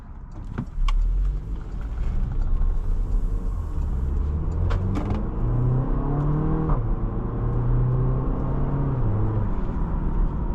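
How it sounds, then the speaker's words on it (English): A 2022 Porsche Macan with 261 horsepower accelerates, heard from inside the cabin: a steady engine drone climbs in pitch, dips at a gear change, then keeps rising, loud and continuous with no talking. "nice acceleration"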